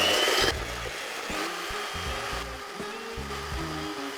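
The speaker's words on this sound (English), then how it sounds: "we're just going to whisk it until it's, quadrupled in volume" An electric mixer whisks a brownie mixture in a steady whirring drone, broken by repeated bumps and scraping knocks as the beaters move through the bowl, with a brighter burst at the very start.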